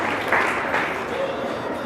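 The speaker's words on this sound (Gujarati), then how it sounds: "સંપૂર્ણ પરિવાર અને બંને તમામ વિદ્યાલયના ગુરુજનોને આપણે જોરદાર તાળીઓથી વધાવીએ." Applause for teachers at a school Republic Day celebration and cultural program: a short burst of crowd clapping in a large room, fairly loud and continuous with a slight swell.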